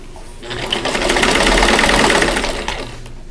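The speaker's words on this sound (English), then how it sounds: "most of the time, for me anyway, to sew with the sashing on the top" A sewing machine runs loud and close, stitching quilt blocks with sashing, ramping up into a steady whirring hum before slowing to a stop.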